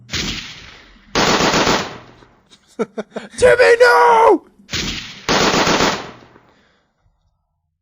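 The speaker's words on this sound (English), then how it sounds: "Oh, wait, I have a gun sound, don't I?" A played gun sound effect: a burst of rapid machine-gun fire with a few scattered shots before it, set between short bursts of speech.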